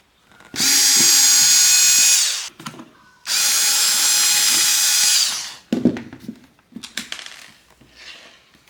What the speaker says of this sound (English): So now let's take the screws out.